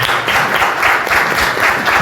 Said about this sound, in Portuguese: Queria pedir aplausos para essa mesa incrível.